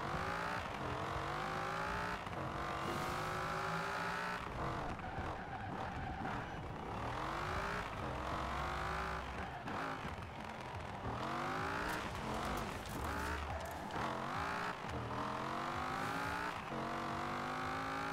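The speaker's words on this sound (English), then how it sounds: "Ooh, V10 sounds weird." A V10 car in the racing game Forza Horizon 4 revs hard through repeated gear climbs, its engine note rising and dropping again and again with tire squeal, loud and continuous with no talk over it.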